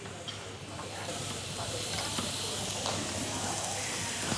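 Oiled meatball skewers sizzle in a ridged grill pan, a soft steady hiss that grows slightly louder, with faint scattered crackles and a low background hum.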